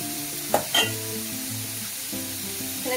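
Luchi puffs in hot oil in a village kitchen, a close sizzle and bubbling with a couple of sharp spatters and pops early on, then a softer steady fry, with no talking.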